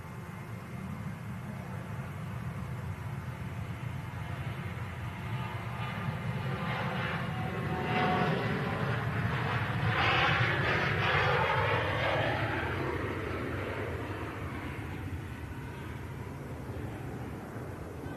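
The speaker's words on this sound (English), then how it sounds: "Departure from the Ryanair." A Ryanair airliner departs Manchester Airport for Paris, its engine roar swelling to a loud peak midway with sweeping whine tones, then easing off as it climbs away, alone without talk.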